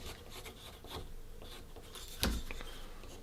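The back of a carving knife rubs over soft wood while shaping a hand-carved figure, making repeated quiet rasping strokes with one sharper, louder scrape near the end.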